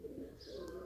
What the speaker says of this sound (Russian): Голуби пришли со стороны.